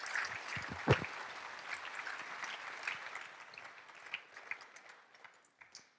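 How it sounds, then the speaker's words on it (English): A live audience at a student athlete leadership event claps in a dense, steady burst with one sharp louder clap early on, then the applause gradually thins and fades toward the end. "Round of applause."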